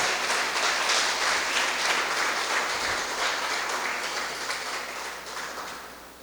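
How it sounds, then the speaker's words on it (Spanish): An audience applauds a guest doctor at a talk, a steady dense wash of clapping that holds at moderate loudness and slowly fades, with no talk over it. "Quiero que le dé un fuerte aplauso al doctor Douglas González"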